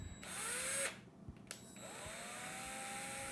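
A power drill bores slowly into a plastic doll head, its motor whining up in short rising bursts with a brief pause between, quiet and close.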